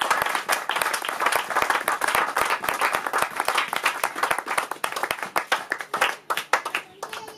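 An audience applauding for apostle Calvin at a church gathering, dense and steady clapping from many hands close by, holding at full strength for several seconds before thinning into scattered claps.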